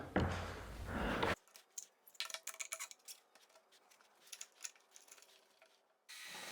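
Clamps are tightened on a glued-up red oak tabletop, producing a short series of close, quiet ratcheting clicks and scraping rubs at an uneven pace.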